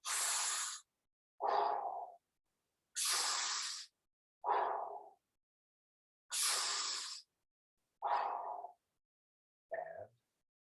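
Deep, slow breathing in a relaxation session: three and a half rhythmic cycles of airy inhales and softer exhales, close and quiet, with silent gaps between each breath and no speech.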